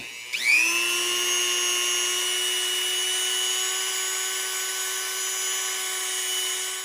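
A Dremel rotary tool polishes metal on a truck part with standard Dremel polish, spinning up from a brief start into a steady, loud, high-pitched whine that holds for several seconds, with no talk.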